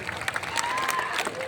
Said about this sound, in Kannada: ಜೋರಾದ ಚಪ್ಪಾಳೆ ಕೊಡ್ಲೇಬೇಕು